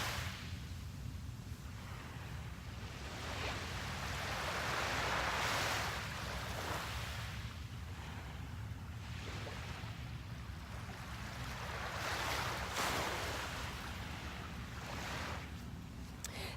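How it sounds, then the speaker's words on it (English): Ocean waves washing onto the shore at sunrise, a continuous soft surf with gentle swells rising and falling every few seconds, heard from a distance with a light wind rumble and no voices. "Let's soak in the colors, the sounds of the waves, and set our intentions for the day."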